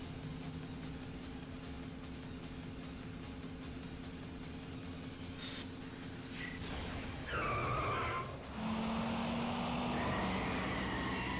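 Cars drifting and skidding in Yakuza 5 Remastered, a steady engine drone giving way to sharp tire squeals and sliding screeches in the second half, loud and close over background game music.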